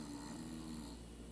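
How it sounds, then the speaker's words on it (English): A short recording of a man snoring, a steady rasping drone with a low hum beneath, heard without any talking. "Him snoring? Yeah. Is that me or him?"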